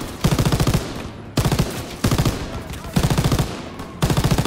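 A heavy anti-aircraft machine gun in Call of Duty: WWII fires five loud, close bursts of rapid rounds, each with a short ringing tail and a brief pause before the next.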